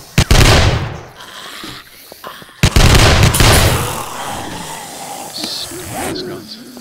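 Gunfire from three or four shooters mowing down a zombie horde in a video game, with loud sharp bursts near the start and again around the middle, followed by scattered shots and noise. No speech is heard.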